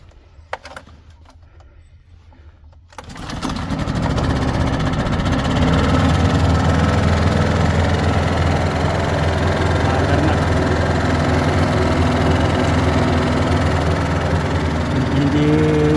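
A snow blower engine starts after a short quiet stretch, then runs steadily and fairly loud at a constant idle-like drone, with a faint rattle and vibration.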